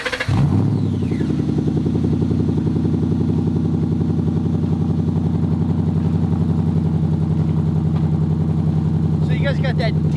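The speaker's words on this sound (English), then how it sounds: "you guys got that deep throaty rumble to it" A 2011 Ford Mustang GT V8 with a catback exhaust cranks on a cold start and fires into a loud, deep rumbling idle that stays steady and throaty throughout, close up.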